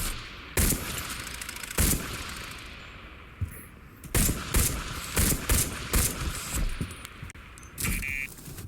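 A pistol fires in the VR game Into the Radius 2. There are sharp single shots, two early and then a quicker cluster of several more, with mechanical clicks and handling noises between them.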